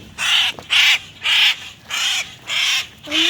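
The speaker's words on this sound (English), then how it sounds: "The birds trying to attack us." Crows calling near a backyard pool, six loud harsh caws in a steady rhythm, each about half a second long, close by and with no talk.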